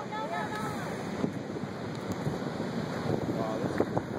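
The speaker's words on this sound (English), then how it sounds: "Watch the rogue wave coming up on you." Heavy surf at Humarock gives off a broad, steady wash of crashing waves, mixed with wind rumble on the microphone and faint voices.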